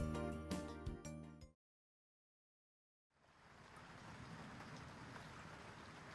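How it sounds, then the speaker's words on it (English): Steady rain mixed with sleet falls as people step out of a train station, a dense, continuous hiss and patter that fades in after a short silence, following a stretch of music. "it begins to rain along with some sleet, just like the forecast predicted"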